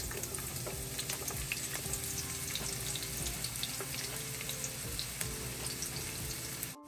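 Chopped onion fries in hot oil, giving a dense, continuous near sizzle with faint crackling and occasional clinks, all without speech.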